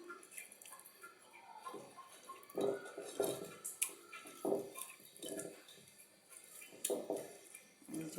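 Tilapia pieces are worked by hand with turmeric, chili powder and salt, giving soft, wet squelching and slapping bursts that come and go irregularly and stay close and quiet.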